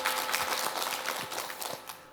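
Applause from a studio audience on a Korean morning talk show, a steady, fairly quiet patter of many hands clapping throughout and thinning slightly toward the end.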